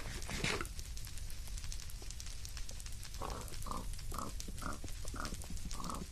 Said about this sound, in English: Go out of the way, pig, or you're gonna die.